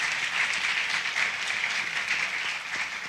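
A congregation in church applauds with quick, dense hand clapping that stays steady and fairly close for about three seconds, with no voices rising above it.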